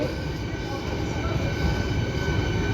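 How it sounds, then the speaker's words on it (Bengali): An ICF air-conditioned passenger train rumbles past close by, a steady heavy roar of wheels and carriages with no pause. "আইসিএফ ট্রেন মানে এসি ট্রেন। আইসিএফ আমাদের প্রথম ট্রেন এটা দেখতে পাচ্ছ।"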